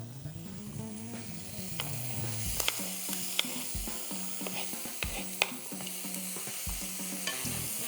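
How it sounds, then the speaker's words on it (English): Chopped onion sautéing in a pan, a steady soft sizzle with scattered clinks and scrapes of stirring, close and fairly quiet, with no talk. "we'll get a nice little saute going"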